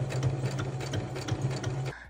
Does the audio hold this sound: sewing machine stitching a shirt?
yes